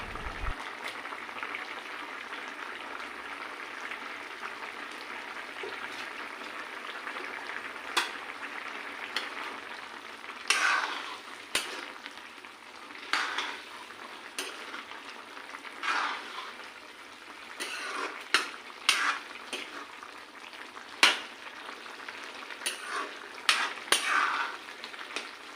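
Fish pieces dropped into a boiling pot of Assamese fish curry with ridge gourd, potato and jackfruit seeds, giving a steady bubbling simmer broken by scattered clinks, splashes and spoon stirring, no voices.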